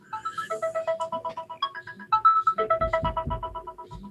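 A mobile phone rings during a pharmacology lecture, its bright electronic melody repeating in quick pulsing phrases for several seconds, clear and moderately close, with soft room noise beneath and no one speaking.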